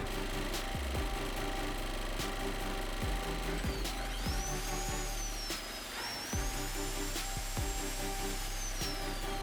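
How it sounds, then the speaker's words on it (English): Honda EP 1000 portable generator hums steadily while powering an electric drilling machine, which whirs in repeated short bursts with sharp stop-start knocks, loud and close throughout. "Now let me switch it on and test my drilling machine with it."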